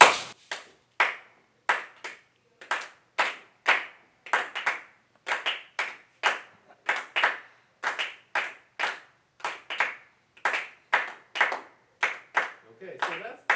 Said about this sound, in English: So, see if we can clap the clave together.